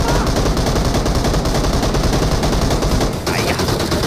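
M249 machine gun firing with a 6x scope in a battle royale game, a dense, loud, continuous burst of automatic fire filling the whole stretch, with a voice faintly underneath.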